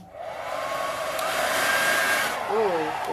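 Hair dryer blowing steadily and close over a fresh resin pour, a continuous whooshing roar with a slight rise and fall as it sweeps back and forth, a faint high whine sliding near the end.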